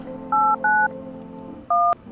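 Three crisp telephone keypad tones sound in the video game No I'm Not A Human. Two come close together, then a third follows after a short pause, each clear and distinct over a faint background.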